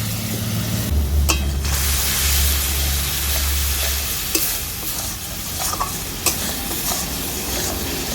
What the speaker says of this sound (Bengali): সব কিছু কষিয়ে নিচ্ছি।